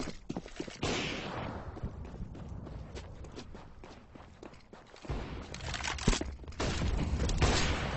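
Rifle gunfire in Counter-Strike on the Dust 2 map during a professional match, with sharp shots cracking over a dense bed of in-game footsteps and movement that thickens toward the end.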